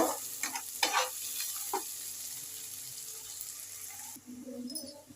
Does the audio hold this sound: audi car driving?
no